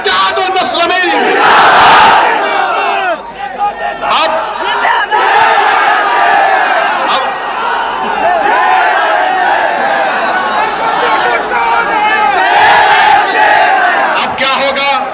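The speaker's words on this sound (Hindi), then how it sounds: "अगर सच कहा तो नारा लगा हमारे साथ, नारे तकबीर, नारे तकबीर" A large political rally crowd roars and chants slogans in unison, loud and close, with waves of shouting swelling and fading across the whole stretch.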